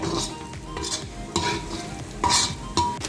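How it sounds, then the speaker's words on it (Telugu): Chicken biryani masala gravy sizzling in a pan while being stirred, loud close scraping strokes repeating over a steady frying hiss, no voices. "ఒక 2 నిమిషాలు దీన్ని ఇట్లా ఫ్రై చేద్దామండి."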